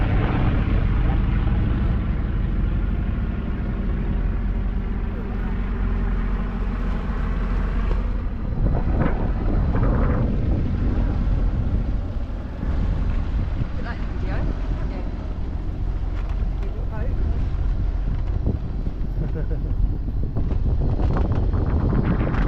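Steady wind roar buffets the microphone aboard a sailboat under mainsail, heading into the wind, with water and hull noise beneath it and a louder gust midway; continuous and close throughout.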